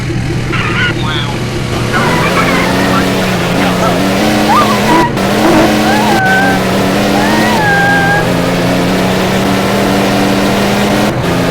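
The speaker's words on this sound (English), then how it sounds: "I am sliding." A car slides and skids with tires squealing over a steady, loud engine drone, a few rising squeal tones sweeping through, with an occasional voice underneath.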